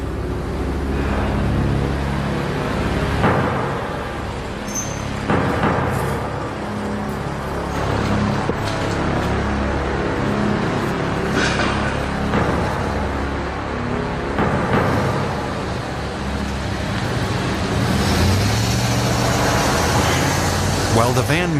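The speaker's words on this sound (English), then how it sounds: "A lot of cars going by" Road traffic keeps up a steady rumble as cars go by, with repeated swells of passing vehicles over a constant roadway drone and a voice talking over it throughout.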